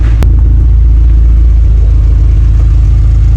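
A car engine with a cheap aftermarket eBay exhaust, recorded close and loud. It gives a deep, steady rumble with a sharp revving blip at the start, then settles into a continuous idle drone.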